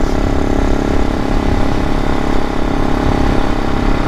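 A supermoto motorcycle engine runs steadily at a constant, moderately loud rumble, with no talking over it.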